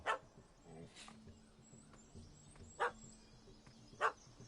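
A puppy barks in The Witcher 3, with a few short, yappy barks spaced a second or more apart over quiet game ambience, fairly faint and at a moderate distance.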